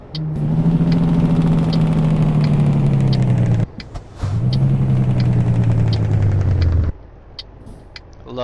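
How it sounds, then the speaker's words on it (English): A truck's jake brake in Euro Truck Simulator 2 barks as a loud, throaty staccato engine rumble in two long runs, dipping in pitch, with a short gap between them before it cuts off. "I love that jake brake."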